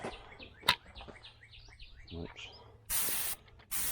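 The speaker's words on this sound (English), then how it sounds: "It's not spraying very good. It needs the tip clean" Two short bursts of hissing spray from a spray paint can with a clogged tip, painting door jambs on a 1968 Chevelle Nomad, each under a second, come near the end after quiet chatter and some chirpy squeaks.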